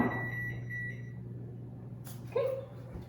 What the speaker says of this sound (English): All right, kitchen timer.